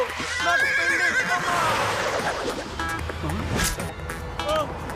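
A cartoon horse neighs loudly in an animated scene, its whinny rising and falling over noisy, layered effects while characters talk over it.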